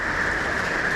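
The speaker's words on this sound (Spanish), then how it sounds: "Ay, esta lluvia amigos, esta lluvia me tiene nervioso." Steady rain falling outdoors onto a work area where freshly poured epoxy pieces sit, a continuous dense hiss with no breaks and no voices.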